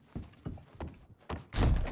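A door in the Red Dead Redemption RedM video game thunks and bangs in a series of hard knocks, ending with a louder heavy slam, close and without talk.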